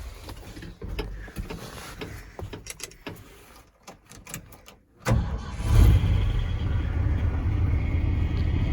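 A 1979 Ford F250 4x4 pickup with dual exhaust, in need of an accelerator pump, clicks and cranks briefly, then fires and settles into a steady, loud, deep rumbling idle close by.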